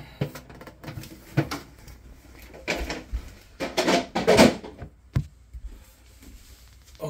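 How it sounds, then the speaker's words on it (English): A refrigerator crisper drawer lifted out of a GE fridge, with a few scattered plastic knocks, scrapes and rattles at close range. The handling noises are irregular and moderately loud, and no one speaks. "And take the second drawer out"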